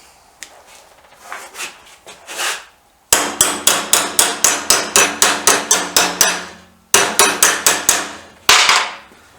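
A hammer strikes a motorcycle part clamped in a vise, sharp loud metallic blows in a fast steady rhythm, two runs of about a dozen hits, then a single final strike, after some lighter taps.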